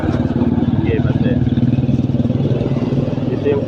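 A motorcycle engine runs during driving practice on a road, a steady buzzing drone with a regular pulsing throb, close and fairly loud, with people talking over it.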